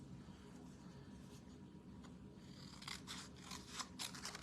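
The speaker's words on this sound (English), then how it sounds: "I'm just going to rough cut this with my scissors." Scissors rough cutting card paper, a quiet run of snipping and scraping strokes close by that gets busier toward the end.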